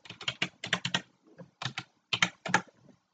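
Computer keys click in quick bursts under close, fairly clear recording, with rapid taps grouped into short runs and brief pauses between them, no voice over the typing.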